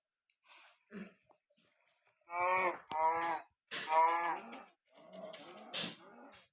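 A Minecraft cow moos several times in low, drawn-out calls with breathy snorts in between, close up and otherwise quiet.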